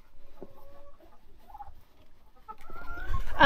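Chickens in a snowy-weather coop clucking and squawking, soft scattered clucks at first building to a louder, agitated squawk near the end, close by with no talking.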